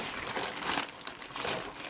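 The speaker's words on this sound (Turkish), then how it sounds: "Şöyle yırtamalım da biraz sağlammış poşeti." A thick plastic cargo bag holding shoes is pulled and torn open close up, giving a run of loud crinkling and rustling bursts with no talk.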